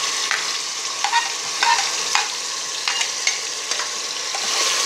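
Garlic, tomato and onion paste sizzles steadily in a pan for veg kurma, close and continuous, with repeated scraping stirs of a spoon every second or so.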